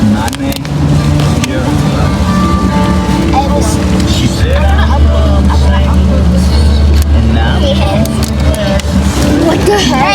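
Heavy rain pounds steadily on a car during a rainstorm, a dense loud wash that continues throughout, with low rumbling and scattered voices in the background.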